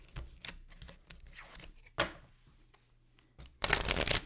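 A thick tarot card deck being split and shuffled by hand, giving a run of crisp riffling bursts and soft slaps, ending in a loud, dense flurry of card noise up close.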